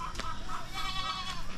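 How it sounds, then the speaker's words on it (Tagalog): Goats bleat in short, wavering cries, a few overlapping calls nearby over a steady outdoor background. "Mga kambing oh."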